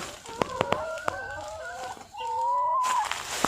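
Chickens kept for eggs at a rural home, clucking in short bursts with sharp pecks and scratches, then one hen or rooster letting out a long drawn call close by, the flock carrying on in the background.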